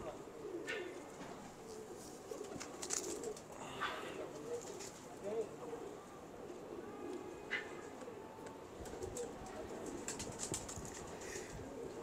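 Domestic pigeons coo faintly at a fancier's loft, soft low calls scattered over a hushed background with occasional chirps and light fluttering.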